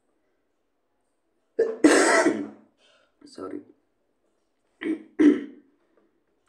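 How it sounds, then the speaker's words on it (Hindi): A teacher coughs and clears their throat during a Hindi-English exam-prep lesson: a few short, close, harsh bursts separated by pauses, with a brief spoken word among them. "खांसी है।"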